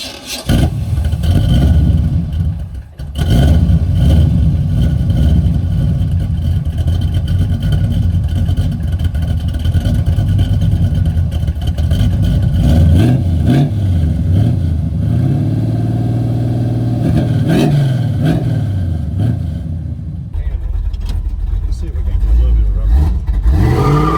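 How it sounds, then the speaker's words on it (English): A loud Chevrolet C10 street rod engine with long-tube headers and 2.5-inch exhaust revs hard and holds at high pitch while the tires spin, a sustained roaring burnout with fluctuating engine tone and a brief dip early on. "It's just blowing the tires off."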